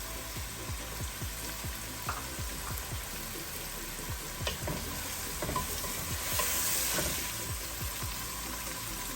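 Green peas stirred and fried in a pan for paneer khichdi, a continuous soft sizzle with repeated scraping strokes of a spoon against the pan.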